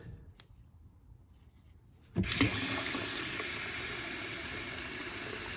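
A kitchen tap opens into a sink during rinsing while homemade soap is made. A quiet stretch with faint clinks comes first, then a sudden, steady hiss of running water.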